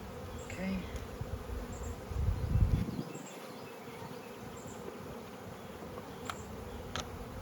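Honey bees buzz during a hive rescue in a steady, close drone, with a louder swell of movement partway through.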